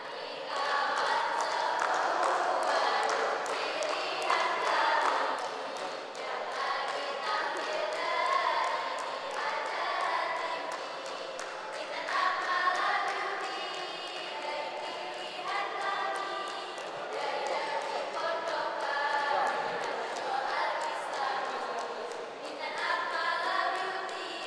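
Supporters from an Islamic boarding school perform their team cheer in a TV studio, with dense chanting and rhythmic group voices filling the room continuously and loudly, no single voice standing out.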